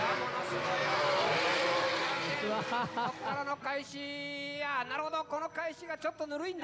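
A Corvette drift car engine roars loudly at Tsukuba Circuit during D1GP qualifying, revving up to a high-pitched whine with rising and falling gear shifts, while a voice speaks over it.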